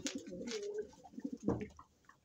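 Pigeons coo in low, throaty bursts, several overlapping calls close by, with a brief pause before another rolling coo.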